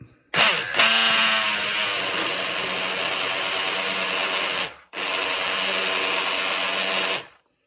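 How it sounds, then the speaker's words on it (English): A hand blender whirs loudly nearby, running steadily for over four seconds, cutting out briefly, then buzzing again before stopping. "I'm just going to get this hand blender, be a bit noisy."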